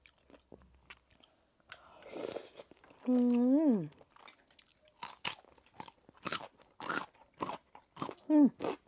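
Crunchy food chewed close to the mouth, with a run of crisp, irregular bites and crunches, a short voiced sound partway through, and a brief vocal murmur near the end.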